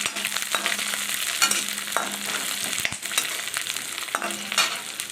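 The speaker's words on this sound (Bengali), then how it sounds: "এখন এই রসুন কটা ভেজে নেব" Garlic cloves fry in hot oil for a Bengali-style aloo dum, giving a steady, bright sizzle up close, broken by stirring scrapes and clinks against the pan.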